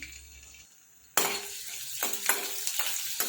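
Chopped green chili hits hot oil in a pan with a sudden loud sizzle after a quiet moment, followed by crackling and a few stirring scrapes.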